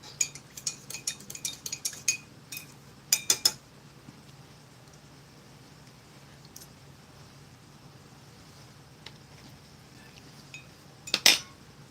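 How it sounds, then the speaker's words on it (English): A metal spoon stirring cocoa in a cup from a 1988 US MRE ration, a rapid run of close, bright clinks against the cup that stops, with one more short burst of clinking later. "I'm just giving the cocoa a stir because I think it needs it."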